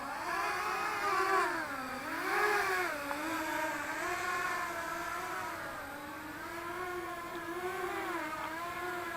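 A Walkera Rodeo 150 quadcopter flies nearby, its high motor whine droning continuously and rising and falling in pitch as the throttle shifts.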